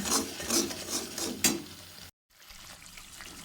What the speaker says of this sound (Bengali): মশলাটা ভালো করে একটু আমি কষিয়ে নিচ্ছি